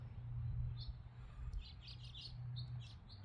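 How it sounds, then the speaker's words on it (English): Two birds chirp outdoors near a crackling fire in a wooded spot, with short high tweets scattered through the clip over a steady low rumble. "Oh, there's two birds there."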